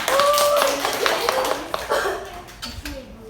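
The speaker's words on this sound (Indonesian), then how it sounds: "beri tepuk tangan dulu dong" A classroom of students clapping during a teaching session, a brief ragged burst of hand claps mixed with voices talking and calling out.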